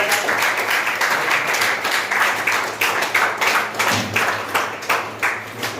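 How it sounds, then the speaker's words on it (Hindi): Audience applause at a coaching institute's celebration of student selections, many hands clapping in a loud, full wave that turns into more rhythmic, distinct claps toward the end. "तो एक बार जोरदार तालियां।"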